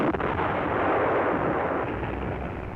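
Infantry guns and artillery open fire ahead of a German infantry and tank attack in 1942, a dense, continuous booming roar that swells and slowly fades, heard without any voices.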